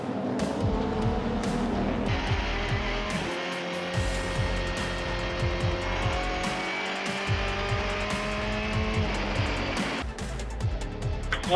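Subaru BRZ GT300 race cars competing in a 2023 Super GT round at Autopolis, with loud engine drone, rising and falling gear shifts and passing cars continuing throughout.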